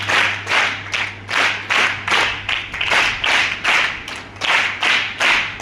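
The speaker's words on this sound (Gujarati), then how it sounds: "મિત્રો 3 તાળીઓથી આ સ્વાગતને આપણે વધાવીએ." A school audience at a child-safety event claps in a steady rhythmic series of loud unison bursts, about a dozen evenly spaced group claps with no talking.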